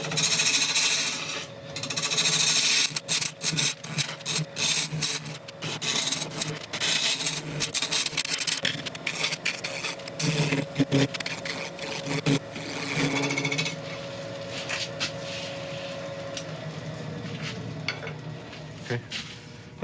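A rotten elm blank with epoxy resin spins on a wood lathe, braced by the tailstock, with continuous scraping and rasping of the tool cutting curves and irregular scratchy bursts over a steady hum.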